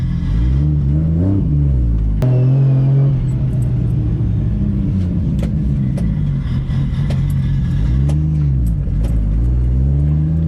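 A car engine runs close and loud after its gearbox was welded and refitted, with a steady mid-pitched drone that rises and falls through several revving swells as it drives, and no talk over it.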